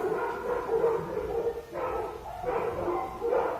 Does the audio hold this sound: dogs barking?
yes